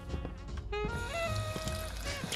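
Clean water pours steadily in the Fallout 4 video game, giving a continuous gurgling trickle over low background rumble.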